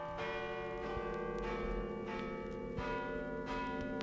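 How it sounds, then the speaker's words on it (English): Church bells ring out at midnight on Christmas, with steady overlapping peals and a sustained resonant hum, heard from a distance at moderate volume with no voices. "Listen, the bells. Midnight."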